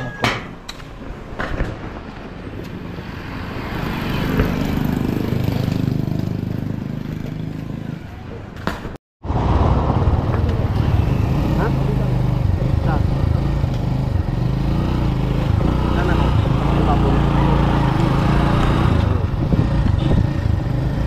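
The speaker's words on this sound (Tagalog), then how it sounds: "Ito yung motor." A motorcycle engine runs continuously with a rough, close rumble and road noise on a flooded road, briefly cutting out before continuing; people talk over it at times.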